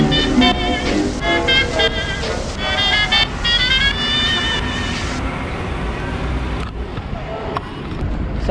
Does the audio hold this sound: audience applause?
no